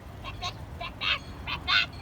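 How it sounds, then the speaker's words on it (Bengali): A duck quacks about six times in quick, uneven honking bursts, close and fairly clear against a low background rumble. "হাঁস প্যাক প্যাক।"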